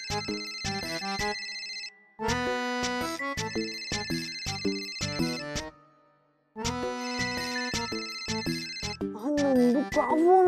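A mobile phone ringtone plays a bright, repeating melodic tune in loud bursts with a short gap between them.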